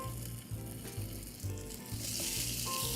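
Garlic and onion sautéing in a pot for braised venison osso buco give a steady close sizzle, with repeated low rhythmic thumps running underneath it throughout.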